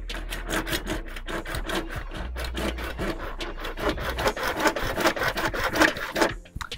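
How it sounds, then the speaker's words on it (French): Hand saw cutting a gutter downpipe to length, fast rhythmic back-and-forth rasping strokes close up, speeding and growing louder toward the end before stopping. "La première étape va donc consister à couper ma descente de gouttière à la bonne longueur"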